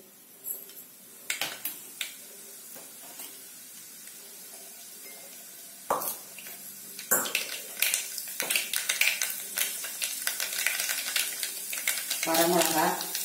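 Mustard seeds and urad dal sizzle in hot oil in a pan, with sharp pops and crackles that start sparse and become denser and louder toward the end over a quiet background.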